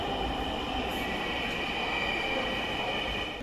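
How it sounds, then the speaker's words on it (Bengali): Dhaka metro rail train on MRT Line 6 running between Uttara and Motijheel near Karwan Bazar, a steady loud rumble and hum of rolling wheels throughout, close and continuous. "ইতিমধ্যে রাজধানীর উত্তরা থেকে বাণিজ্যিক এলাকা মতিঝিল পর্যন্ত চলাচল করছে মেট্রো রেল"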